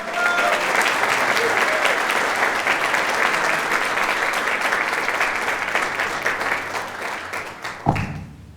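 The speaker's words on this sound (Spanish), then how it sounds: "Recibamos con un fuerte aplauso a Esteban Améztegui, por favor." A church congregation gives loud, sustained applause to welcome a guest preacher, dense clapping with some crowd noise that fades toward the end, followed by a brief thump.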